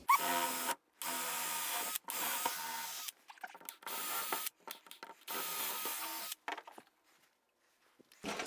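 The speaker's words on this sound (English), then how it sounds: "I'll be able to just drill holes from above and install the screws" A power drill bores screw holes from above in several loud, steady whirring bursts of about a second each, separated by short pauses and quieter handling noises, with no voices.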